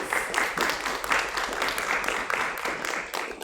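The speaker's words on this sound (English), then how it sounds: "Let's give Buddy, our employer sponsor today, a round of applause" Steady applause from an audience at a career fair prep session, a dense wash of many hands clapping at an even level throughout, with no voices over it.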